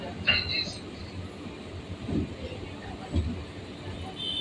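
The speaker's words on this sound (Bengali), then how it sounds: "ট্রেন এখন 4 নম্বর লাইন ধরে ছুটে চলেছে।" A local train from Barrackpore runs along track number 4 toward B.B.D. Bag, a steady rumbling ride with a few heavier wheel thumps over rail joints and faint background babble.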